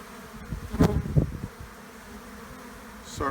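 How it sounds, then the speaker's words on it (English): Honey bees buzz in a steady low drone around an open hive of ivy-honey frames, with a few closer bees swelling briefly louder as they pass near, over faint background handling noise. "probably most of them are flying bees"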